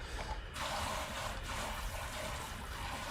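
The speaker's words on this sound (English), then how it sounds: "rinse my knife off for right" Tap water runs steadily in a home kitchen as a knife is rinsed after cooking gyudon, a soft continuous splashing hiss that is fairly quiet and has no voices over it.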